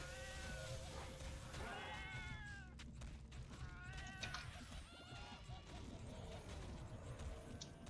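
A cat in the video game FATE meows repeatedly in rising, drawn-out cries that come several times over busy game noise, fairly close and clear.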